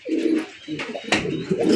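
Tail mark pigeons on a farm coo close by in soft, throaty repeated calls, with a faint voice and small rustles in the background.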